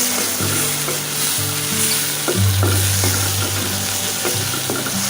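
A ginger, garlic and cumin paste sizzles loudly in a frying pan while a spoon stirs it, scraping and clinking against the pan in an irregular rhythm.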